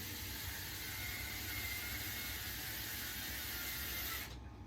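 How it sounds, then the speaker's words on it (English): Screw being driven into a staircase stand during assembly, a steady whirring, ratcheting mechanical run that holds for about four seconds at close range, then cuts off abruptly. "So run your next screw in"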